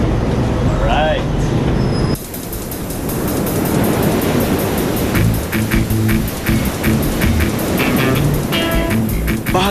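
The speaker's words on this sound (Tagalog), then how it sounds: "Bahagyang maalo ng dagat papuntang Higdop Island" Choppy sea slaps around a boat heading to Higdop Island under a loud, continuous rush of wind, water and motor noise, with irregular thumps and splashes, close and dense, while faint voices come through.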